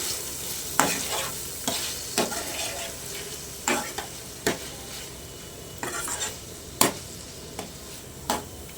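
Goat kidney and liver sizzle in a pan with garam masala paste as a spoon stirs them, sharp scraping clinks landing every second or so over a constant frying hiss, close and fairly quiet.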